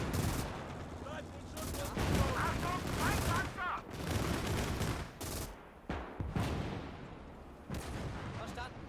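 Bursts of rifle and machine-gun fire with heavy booms crack through a World War II battle on the Eastern Front in the real-time strategy game Call to Arms, loud and repeated in irregular volleys.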